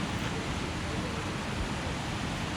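Rushing water pours over rocks at Aruvikarai falls, a broad, steady roar of a waterfall and fast river current, loud and close with no pauses.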